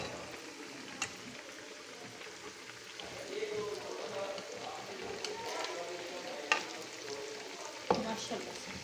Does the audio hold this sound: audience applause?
no